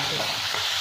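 Shrimp frying in a pan over lowered gas heat for a Bengali bottle gourd and prawn dish, giving a steady, close hiss of sizzling oil with no talking.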